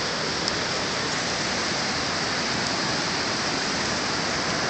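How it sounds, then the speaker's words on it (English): Heavy rain pours down onto a flooded lake during the 2011 Branson flood, a constant dense broadband hiss with no breaks, close and loud throughout, and no speech. "this rain for the last 6 days has made it pretty violent"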